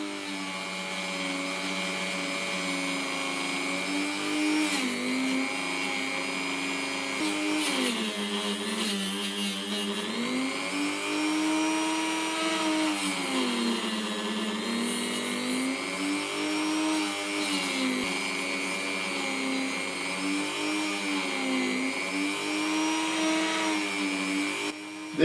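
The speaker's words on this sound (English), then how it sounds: "I've set up my Dremel to use some mildly abrasive polishing wheels." A Dremel rotary tool fitted with mildly abrasive polishing wheels works on the metal casting of a Dinky Toy 252 refuse truck, giving a continuous close whine whose pitch repeatedly dips and recovers as the wheel bears on the metal. No one speaks.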